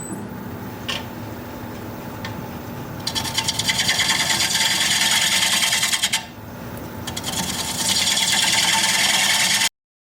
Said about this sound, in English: I'm going to take a minute and sharpen that gouge.